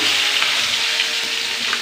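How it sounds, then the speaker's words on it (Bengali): Koi fish fry in a hot pan with a steady, loud sizzle of oil, heard up close and alone with no talking. "মাছগুলো ভালো করে ভেজে নেব।"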